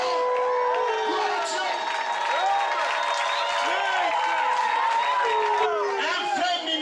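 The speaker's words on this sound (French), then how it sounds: "Acclamons pour le pasteur." A church congregation in Libreville cheers and applauds for their pastor, a dense, continuous roar of voices and clapping filling the room throughout.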